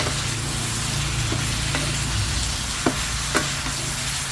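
Crispy fried catfish sizzles while being stir-fried in a pan, a constant oily crackle with a few sharp clicks of the utensil against the pan.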